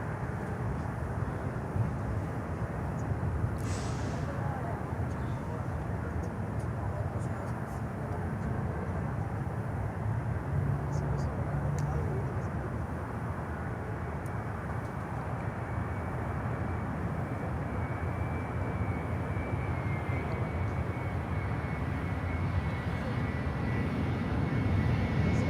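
A Boeing 737-400 at Miami Airport, its engines a steady, broad low roar drifting at a distance across the airfield for the whole stretch, with a faint high whine running above.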